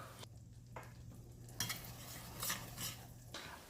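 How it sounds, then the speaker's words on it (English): A glaze of brown sugar, white sugar, salt, cinnamon, maple syrup and butter is stirred in a pot on the stovetop. Faint utensil scrapes and clinks come in short bursts over a low background hum. "On the stove top, I prepare the glaze, which is a mixture of brown sugar, white sugar, salt, cinnamon, maple syrup, and butter."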